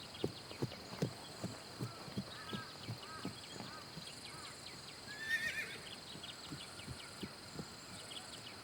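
Horses neigh now and then as hooves clop in a steady rhythm, with insects chirring softly in the background.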